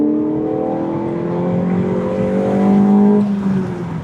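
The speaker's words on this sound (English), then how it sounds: "Right at the high RPMs, you can hear the VTEC crossover" A Honda Civic fitted with a cold air intake accelerates hard, its engine note climbing steadily into high RPM and shifting character near the top as VTEC crosses over, loud and close for about four seconds.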